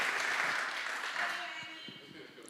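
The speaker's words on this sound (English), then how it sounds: "So big round of applause for all of them." Applause at a City of Miami commission meeting, a broad wash of clapping that fades over a couple of seconds while voices and a few knocks come through near the end.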